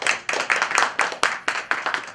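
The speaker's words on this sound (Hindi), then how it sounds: "जोरदार तालियों से" An audience at a self-employment scheme meeting claps together in a steady rhythm, sharp, even beats about four per second, moderately loud and close.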